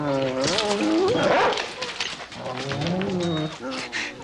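Bird dogs in a ranch house whine and whimper in rising, drawn-out tones, with a few sharper yelps, close by and fairly loud.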